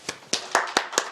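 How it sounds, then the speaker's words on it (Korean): A few people in a church congregation clap at a Sunday service, making about six separate, fairly close claps in an uneven rhythm with no talking. "박수"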